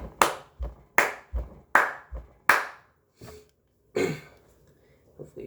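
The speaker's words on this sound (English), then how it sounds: "we're not going to be using our instruments, so we're just going to be clapping today." Hand claps beat out a syncopated off-beat rhythm, four sharp near claps in a steady pattern followed by a few softer, scattered ones, with no voices.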